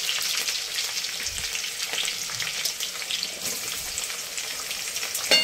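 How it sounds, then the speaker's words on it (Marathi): Peanuts, curry leaves and chopped onion frying in oil for poha, a steady close crackling sizzle with occasional stirring scrapes and a brief splash of water near the end. "शेंगदाणे तळले जात आहेत. आता कढीपत्ता टाकतोय. कढीपत्त्यानंतर मस्त कांदा चिरलेला आहे तो टाकला."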